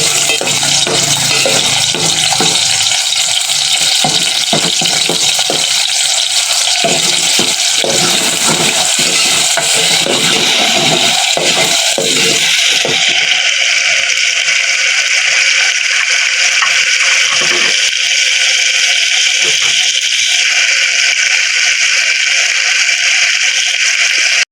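Garlic paste frying in hot ghee, with a steady watery hiss and crackle and scattered rattling stirs, loud and close, easing to a calmer sizzle in the latter half.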